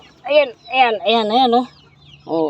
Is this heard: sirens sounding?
no